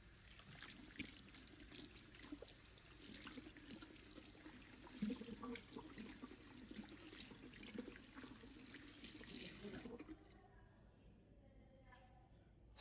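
Tap water runs steadily as hands are rinsed beneath it, a soft continuous splash and trickle that stops near the end, leaving quiet room tone.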